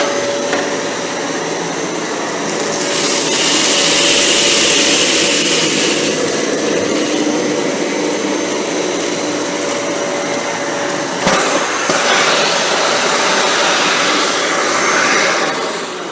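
A Dyson Cinetic Big Ball vacuum cleaner runs along baseboards with a loud, steady motor whine and airflow roar, rising briefly and then changing pitch with a bump partway through.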